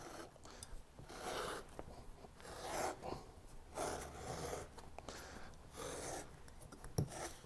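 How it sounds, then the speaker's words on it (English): A circle cutter tool scoring through a round gasket during suspension bushing replacement, a faint steady rasping and scraping that rises and falls in repeated strokes, close and quiet, with one sharp click near the end. "Now, I just cut out a perfectly round circle in seconds."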